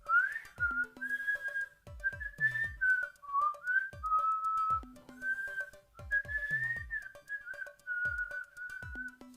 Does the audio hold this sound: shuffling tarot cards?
no